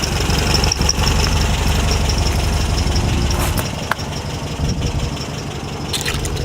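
A 1966 Volkswagen with a 1776cc flat four-cylinder engine idles loudly and close, a steady low rumbling thrum with a fast even pulse and occasional clicks.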